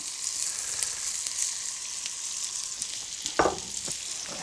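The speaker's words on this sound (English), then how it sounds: "Take your asparagus. We want these just barely to saute." Asparagus sautés gently in butter in a pan, a soft steady sizzle with a brief stir or toss clatter near the end, no voices.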